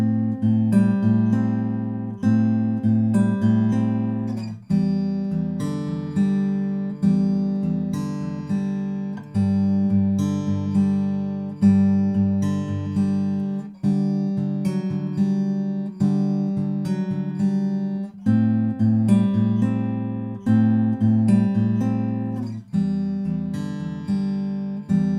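Fingerpicked acoustic guitar plays a song's pre-chorus alone in a steady, repeating pattern of plucked notes over low bass strings, ringing clearly up close.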